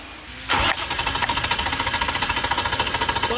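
BMW M52 straight-six in an E36 Compact being cranked over by the starter during a compression test: a sharp starter engagement, then a steady, rapid rhythmic chugging of compression strokes, loud and close, with no talking.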